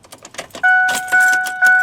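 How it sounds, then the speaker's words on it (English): Keys jangle inside a car in a few quick metallic clinks, then a steady electronic door-ajar chime sounds in repeated tones close by, with no talking. "I want my keys."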